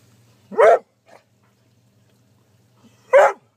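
A dog gives two short, sharp barks about two and a half seconds apart, close by, against a faint low hum in an otherwise quiet room.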